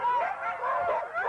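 Several sled dogs bark and yip excitedly in rapid overlapping bursts, close by and continuous, with whining cries mixed in.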